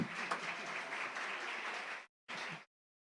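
Audience applause in a hall, a steady wash of clapping for about two seconds, a brief pause, then a short final burst that cuts off.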